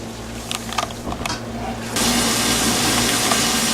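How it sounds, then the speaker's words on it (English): Hot water pours steadily from a tap into a canner, growing louder and fuller midway as it fills, with faint clatter before. "So I'm just putting hot water in a canner."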